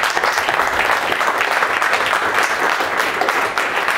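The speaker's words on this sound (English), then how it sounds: "Give a round of applause" Sustained audience applause at an Ethereum meetup in London, a dense, steady wash of clapping from a roomful of people lasting throughout, with no talking over it.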